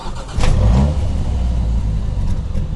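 A BMW X1 M35i xDrive starts up and revs, a loud close engine roar that swells briefly and then settles into a steady, muted idle. No one speaks.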